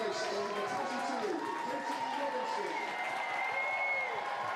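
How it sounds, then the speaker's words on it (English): A stadium crowd at a women's football league match between Brighton and Leicester City roars and applauds steadily as a substitute comes on, a loud, sustained wash of cheering with a commentator talking over it. "Big cheer for Katie Robinson,"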